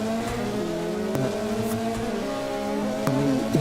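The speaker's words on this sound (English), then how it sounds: "Harry Rodriguez just started his run as well in the Honda Civic Type R" A Honda Civic Type R, a TCR-style race car, on a hill climb run at the Glasbachrennen, its engine droning steadily with shifting pitch and a few gear changes and revs toward the end, heard fairly close and alone.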